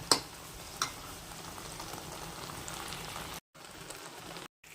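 Beetroot sweet simmering in milk in a pot, a steady close bubbling and seething hiss that runs throughout with a couple of brief pops near the start and two short breaks in the sound.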